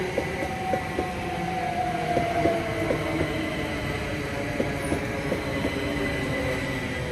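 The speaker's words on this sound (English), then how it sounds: "Let me just hold on a bit till this train pass." A train rolls steadily past in Lionel Town, Clarendon: a continuous rumble and hiss with rhythmic clacks of wheels over rail joints, fairly loud and close, heard alone.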